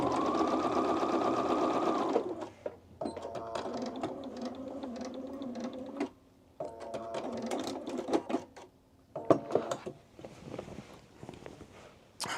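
Sewing machine stitching on an oversized blazer, a fast whirring run followed by several shorter start-stop bursts of mechanical needle clatter, close and clear with no talking.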